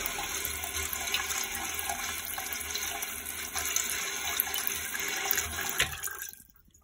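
Steady rushing and hissing of water filling a TOTO toilet tank, continuous and fairly loud, cutting off abruptly near the end.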